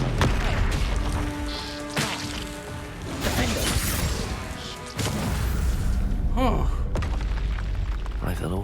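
A Confringo blasting curse goes off in Hogwarts Legacy with a punchy burst and crackling impact, surrounded by layered game effects, whooshes and swelling music in a busy, loud mix.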